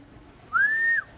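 A single clear whistle-like tone held for about half a second against a quiet outdoor background, as pigeons return to their loft after a long flight.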